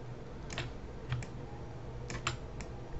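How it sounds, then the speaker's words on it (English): Several light key presses on a computer keyboard during a Maya 3D character-modeling session, sounding as a few scattered soft clicks over a steady low room hum, with no talking. "I'm going to just push 3 on the keyboard"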